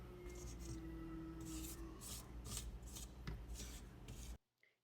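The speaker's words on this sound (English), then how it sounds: "Always remember to do a little scrape on the edges just to get everything in there." A spatula scrapes vanilla bean cupcake batter around the edges of a mixing bowl, making repeated short rubbing strokes in a steady rhythm, close and fairly quiet, with no talking, before stopping abruptly near the end.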